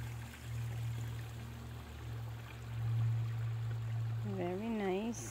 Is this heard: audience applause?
no